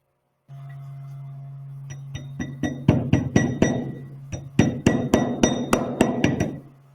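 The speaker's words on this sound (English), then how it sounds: "Normally, a light tap will help seat the bearing." Light hammer taps seat a bearing on the tail rotor drive of a Talon A600 build, about a dozen crisp, close metallic knocks in uneven bursts over a steady low hum.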